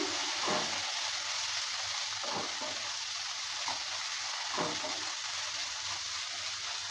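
Figs frying in hot oil in a pan, a steady soft sizzle with several quiet scrapes as the figs are stirred at regular intervals, close and fairly faint.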